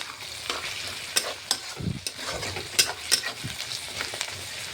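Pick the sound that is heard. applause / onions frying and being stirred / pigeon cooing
onions frying and being stirred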